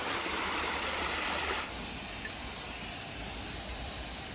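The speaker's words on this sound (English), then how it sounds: "I wish the stream was not as wide. It's kind of too much spray, but it's working." A brand-new water sprayer shoots a wide stream, making a steady, close, broadband hissing rush that softens slightly partway through and then continues evenly.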